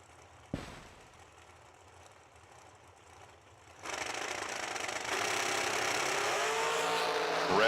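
Dragster engines at a summer drag racing meet on a dragstrip, starting with a sharp bang and quiet idle, then a loud, sustained roar swelling in intensity as the cars launch and run, with no talking.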